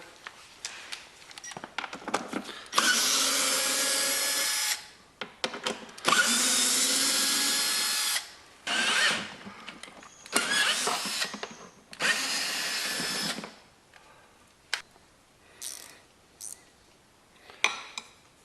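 A power bit driver whirs in several loud, close bursts, some long and some short, with metallic clinks between them, while a bracket is removed from the grass blower assembly of a John Deere lawn tractor.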